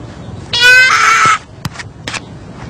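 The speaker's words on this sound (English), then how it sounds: "The sheep is still alive as Jar Jar rips the main artery from its beating heart." A live sheep being slaughtered for lunch at a Mongolian countryside camp gives one loud, strained bleat lasting under a second, then a few faint scuffles and knocks follow.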